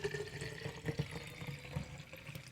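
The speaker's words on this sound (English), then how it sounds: "We have our filtered or strained tea, and you just pour it in there." Strained sun tea being poured back into a glass jar, a steady close trickle and splash of liquid with a few louder gurgles, alone without talking.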